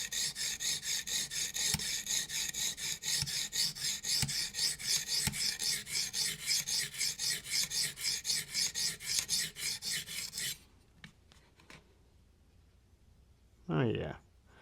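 A knife blade being sharpened on a guided sharpening stone system, rhythmic rasping strokes repeating rapidly and close for about ten seconds, then a few scattered scrapes, with a short voice near the end.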